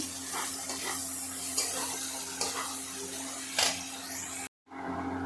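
Onions fry in hot oil with a bay leaf, a steady close sizzle that runs throughout, broken by a few scraping stirs before cutting off briefly near the end.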